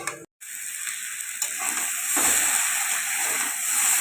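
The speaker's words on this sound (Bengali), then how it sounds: "সুন্দরভাবে এটাকে কষিয়ে নিচ্ছি।" Pumpkin greens with beans, salt, turmeric and green chilli paste sizzle and fry in a pan, a steady hiss with soft stirring scrapes throughout.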